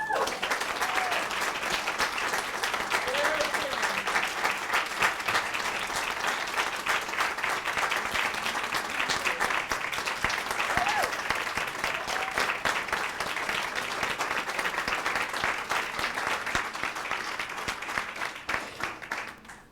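Sustained applause from a church congregation at a Sunday celebration service, dense steady clapping filling the room for about twenty seconds before tapering at the end.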